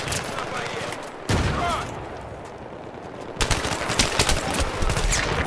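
Rapid automatic gunfire in the Battlefield 3 video game, loud bursts of shots close by in a continuous firefight, with several sharp volleys and no talk over it.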